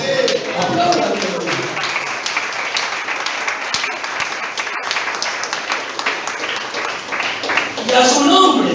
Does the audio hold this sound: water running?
no